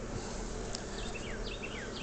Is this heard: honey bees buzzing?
yes